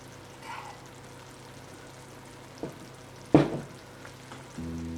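A garlic dish fries quietly in a pan after asafoetida is added, with a soft steady sizzle, one or two brief clinks and stirs, and a faint pouring sound near the end.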